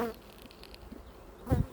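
Honeybees buzz at a hive in a steady, soft drone, with one louder close pass near the end of the short moment.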